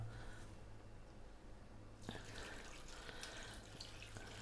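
Water poured from a tap into a cooking pot over chicken legs: a steady close splashing rush that grows fuller and brighter partway through, with no talking.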